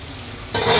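Four fish dropped into smoking-hot oil in a small wok start up a sudden loud sizzle after a moment of quiet, rising in a bright hiss that holds steady to the end.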